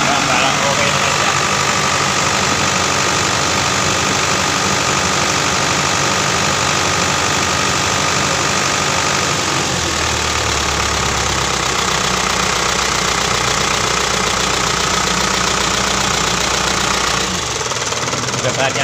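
A restarted engine idles steadily with a slight knocking rumble, then drops to a lower, deeper note about halfway through. A voice speaks over it now and then.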